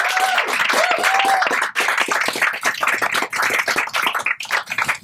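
Audience at a library groundbreaking ceremony gives the library staff a round of applause, a dense, steady burst of clapping from a nearby crowd.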